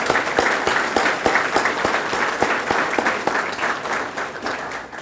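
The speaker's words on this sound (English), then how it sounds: "if we can give them another welcome applause" An audience at a fire-rescue promotion ceremony gives loud, sustained applause, many hands clapping in a dense, even roar that holds throughout before easing slightly at the end.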